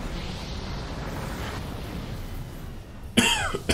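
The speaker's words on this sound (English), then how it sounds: "this damn coughing's giving me a damn headache" A character coughs in the game Mass Effect 2, a rough, fairly loud single burst near the end over steady ambient noise.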